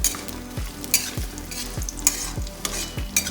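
Raisins stirred in a hot pan for sweet rice, a steady sizzle broken by a regular scraping stroke of the spoon roughly every half second, close and fairly loud, with no talk.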